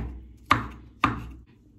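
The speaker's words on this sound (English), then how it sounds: "I'm gonna cut up some garlic for burn with the curry." Knife chopping garlic on a cutting board for curry, two sharp, evenly spaced close chops about half a second apart against a quiet background hum.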